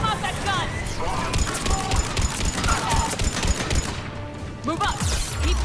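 Mounted gun fire in the video game Mass Effect 3: steady rapid rattling bursts that run without a break under ongoing battle noise, with voices talking over the shooting.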